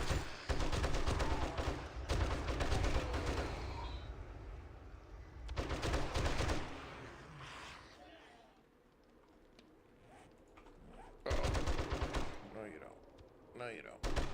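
Gunfire in the survival game 7 Days to Die, several loud bursts of shots separated by quieter gaps, with a person talking during them.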